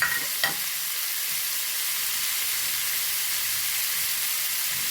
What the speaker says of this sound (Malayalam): ഇനി കുറച്ച് കരിവേപ്പില ഇട്ട് കൊടുക്കട്ടെ.